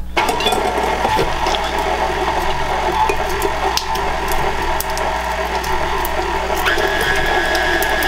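An electric mixer runs to break up room-temperature butter for cookie dough, producing a loud, steady motor whir with a rattling hum that holds for several seconds.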